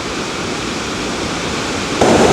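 A tall waterfall on a river in New Hampshire, seen from a footbridge, roars as a steady, loud wash of rushing water that swells slightly louder near the end.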